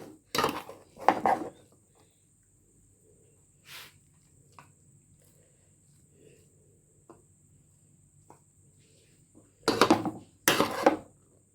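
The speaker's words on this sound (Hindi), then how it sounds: "ये देखिए डिश आउट करने लगे हैं, निखरे निखरे बने हैं" Beef pulao being served from a pot, with a few sharp scraping clatters of a metal spoon against the pot at the start and end, separated by near silence and faint ticks.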